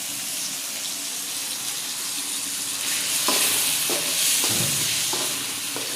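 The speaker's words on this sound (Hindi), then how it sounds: "ऐसा ऐसा प्यार से हिलाना पड़ेगा क्योंकि आलू जो हमारे को बारीक है ना" Potatoes with their peels fry in a pan with a steady, loud sizzle, while a spoon stirs through them and makes several scraping clacks about halfway through.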